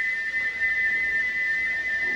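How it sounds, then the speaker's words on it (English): Gordon, a steam locomotive in a Trainz remake, lets out a continuous high whistle with a stuck whistle valve, a steady, piercing tone that holds unbroken from start to finish. "he wouldn't stop whistling until two fitters climbed up and knocked his whistle valve in place"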